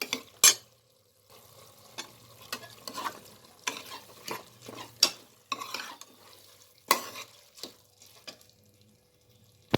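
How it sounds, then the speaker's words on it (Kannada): Soaked rice being fried and stirred for kabuli chana pulao, with a steady low sizzle under repeated scraping strokes of a spoon against the pot, some louder clacks, and no voices. "ಒಂದು 2-3 ನಿಮಿಷ ಫ್ರೈ ಮಾಡ್ಕೊಳ್ಳೋಣ, ಉದ್ರುದ್ರು ಚೆನ್ನಾಗಾಗುತ್ತೆ."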